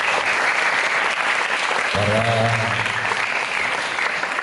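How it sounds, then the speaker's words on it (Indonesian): Audience at an Indonesian motivational event applauding, steady and loud throughout, with a short spoken phrase cutting in midway. "Tepuk tangan untuk beliau-beliau."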